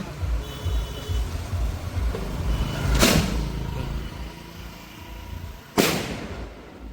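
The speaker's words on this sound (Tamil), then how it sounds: "ட்ரீட்மெண்ட் பண்ணுற காட்டுறதுக்கு இந்த வான வேடிக்கை நடக்குது." Fireworks burst at a village goat festival in Navaliyur, two sharp loud bangs a few seconds apart over a steady background rumble of vehicles and crowd.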